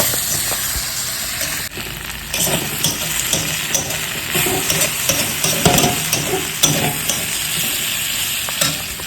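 Pointed gourd coated in gram flour and wheat flour frying in a pan, stirred steadily: a constant close sizzle and hiss with repeated scraping, clattering stirs throughout.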